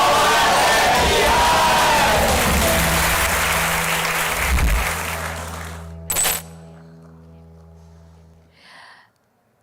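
A conference audience at an awards ceremony breaks into loud, dense applause that gradually fades, leaving music playing underneath and a brief thump near the end.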